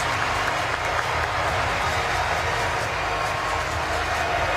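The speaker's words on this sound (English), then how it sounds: "hearing the applause here in the Pierre Mauroy Arena in Lille, France" Sustained, dense applause from a large crowd in the Pierre Mauroy Arena in Lille, France, honoring the French team's bronze medal at the Eurobasket 2015 basketball championship; loud, steady and continuous throughout.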